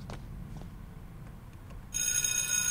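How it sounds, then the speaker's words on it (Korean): A doorbell chime rings out in a horror video game, a bright sustained electronic tone that starts suddenly and holds steadily over low background rumble. "내가 벨 눌렀어"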